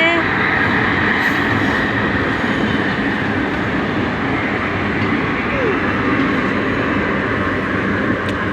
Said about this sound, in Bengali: দেখো বন্ধুরা, মেট্রো যাচ্ছে